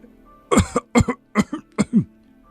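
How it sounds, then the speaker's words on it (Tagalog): A man coughs in a drama scene, a series of five or six sharp, close coughs in quick succession with short gaps, loud and clear with no talk. "Inuubo ka na."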